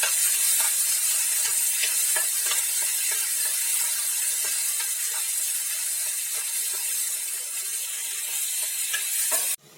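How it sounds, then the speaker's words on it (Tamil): Tomatoes fry with ginger, garlic and green chilli in a pan, making a steady, bright hiss and sizzle with soft periodic stirring taps. It runs close and even, then cuts off abruptly at the end. "இதையும் போட்டு நல்லா ஃப்ரை பண்ணி எடுத்துக்கலாம்."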